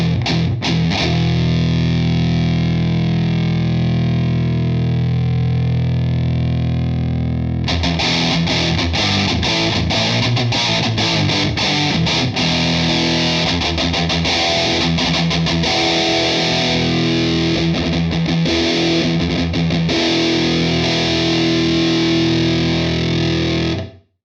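Distorted electric guitar with a nasal, honky midrange tone like a parked wah, shaped by EQ on a Sonicake pedal, first a sustained chord ringing out, then choppy rhythmic strumming, loud and continuous.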